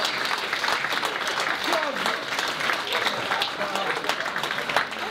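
Audience at a cancer-related event applauding a guest making his way over, a steady dense round of clapping with voices and cheers mixed in.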